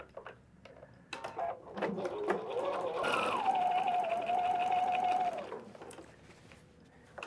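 A sewing machine stitches a guide seam in one steady whirring run of about two and a half seconds, close and moderately loud, framed by quieter handling noises before and after.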